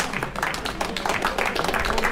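A crowd applauds cycling race finishers at Slovenské Pyreneje 2025, with brief steady clapping and a commentator's voice over it.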